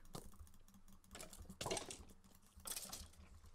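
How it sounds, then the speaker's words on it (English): Quick, irregular computer mouse clicking bursts close up while playing Minecraft, a rapid flurry of small mechanical clicks with faint background hum. "You can probably hear me clicking furiously,"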